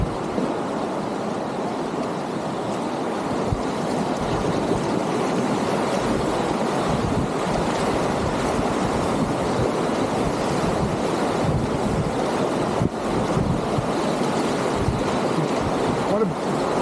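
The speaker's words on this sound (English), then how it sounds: "I assume we're falling right where Sue just went down the waves" River rapids and waves rush steadily and loudly around a tandem canoe on the Dead River, a constant broad wash of water with wind buffeting the microphone throughout.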